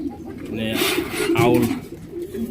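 Pigeons cooing at a pigeon seller's stall, including fancy show breeds, a low soft warbling coo repeating close by while someone talks over it.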